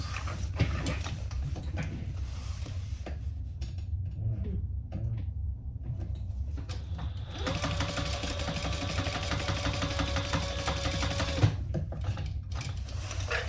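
A sewing machine runs a row of stitches on a fabric hip bag, a fast, even mechanical whir that starts after a quieter stretch of handling noises and holds steady for several seconds before stopping.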